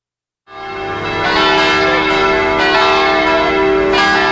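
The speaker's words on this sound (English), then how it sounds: "Church bells would toll to summon worshippers." A bronze church bell rings out loudly after a moment of silence, its sustained metallic tone ringing and swelling with repeated strikes.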